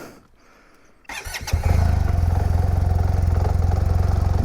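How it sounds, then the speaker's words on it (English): A SYM Maxsym TL 508 maxi-scooter engine cranks briefly, then catches and settles into a loud, steady, rapid idle that continues alone. "and hear this new 508 engine."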